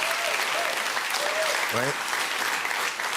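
Audience applause fills the whole stretch at a steady, dense level, with a brief spoken word rising above the clapping partway through.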